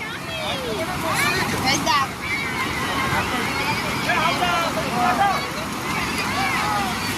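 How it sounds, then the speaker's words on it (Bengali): Sea waves wash continuously at Digha beach while fishermen haul in their catch, with a busy crowd of tourists chattering throughout and loud bursts of surf rising and falling. "দীঘার সমুদ্রে মাছ ধরার চিত্র দেখছেন"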